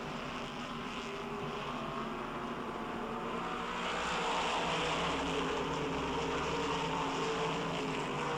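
Race cars in the 2009 VMRS Maine-ly Action Sports 100 at Oxford Plains roar side by side down the back stretch, a steady, dense engine drone that swells louder midway and holds, with no talk.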